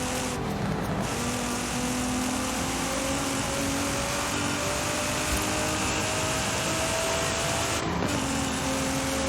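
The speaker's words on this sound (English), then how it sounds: "the engine sounds pretty nice with the upgraded exhaust." Nissan Z engine with an upgraded exhaust in the racing game Forza Horizon 5, a steady sustained drone with shifting pitch, loud and continuous throughout.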